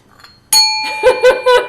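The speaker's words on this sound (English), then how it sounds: "Bring your Buddha bell." A Buddha bell struck several times, a bright metallic ring with a long sustained tone followed by three softer rhythmic strikes or wobbles, close and clear with no talking.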